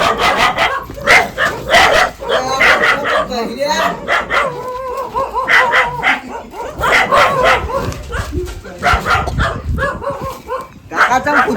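Comic scene with a dog barking and yipping in short repeated bursts, close by and loud, mixed with people talking and shouting over it.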